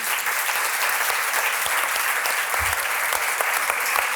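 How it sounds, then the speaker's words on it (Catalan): Sustained clapping from the audience at a children's book presentation by a publisher, an even, full burst of applause with no break, loud and close throughout. "Un aplaudiment!"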